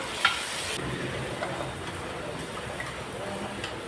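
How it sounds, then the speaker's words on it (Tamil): Tomatoes sautéing in a pan with salt, turmeric, coriander and chili powder for a fish curry, giving a steady soft sizzle with stirring scrapes, moderately close and alone. "சேர்த்துட்டு நல்லா வந்து வதக்கி விட்டுக்கோங்க"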